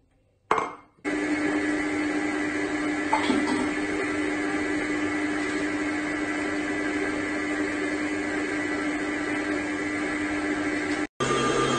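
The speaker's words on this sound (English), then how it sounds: "in this bowl, I have to cream together the butter and the sugar" An electric hand mixer creams butter and sugar in a bowl for a pineapple upside-down cake, whirring steadily and loudly at constant speed for about ten seconds after a brief start, with no talking.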